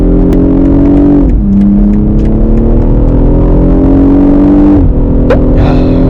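A BMW 840i coupe's engine revs hard under sporty driving, a loud, steady, rising drone heard from inside the car, dropping in pitch twice as the driver downshifts, then climbing again with a brief crackle near the end.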